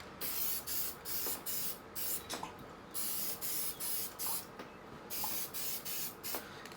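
An aerosol can sprays paint onto a Mercedes Sprinter steering wheel in about a dozen short, hissing bursts with brief pauses between them, close and fairly soft.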